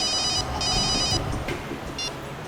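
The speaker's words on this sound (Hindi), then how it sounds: "सर, अभिजीत सर का फोन था।" A telephone rings in a crime drama scene, two short bursts of electronic ringing followed by a brief third burst, fairly close, over a low background.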